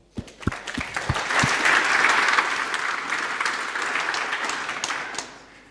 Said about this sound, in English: Thank you very much, and warm applause.